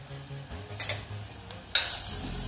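Sponge gourd with chilli powder, turmeric and garam masala is stirred in a pan, a soft sizzle under spoon scrapes, then a louder burst of hissing near the end.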